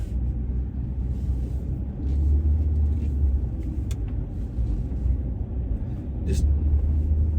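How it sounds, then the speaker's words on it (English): A 2007 Maserati Quattroporte with a ZF six-speed automatic is heard from inside the cabin while driving, giving a steady low engine drone and road rumble that swells slightly partway through, with no one talking. "we're strapped into the Maserati Quattroporte. Let's take it for a spin and see how it drives."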